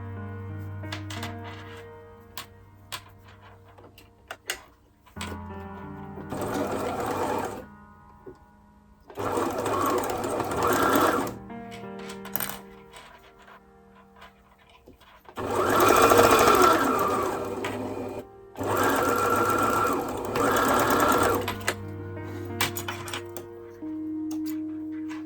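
Sewing machine stitching a quilted wallet lining in several separate bursts: short runs of rapid, rhythmic needle strokes, near and fairly loud, separated by quiet pauses with faint handling clicks, the longer runs coming in the second half.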